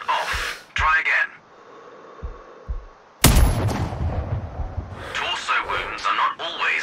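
A sniper rifle shot in Sniper Ghost Warrior Contracts cracks once, loud and sharp, with a ringing tail, set between stretches of an instructor's voice.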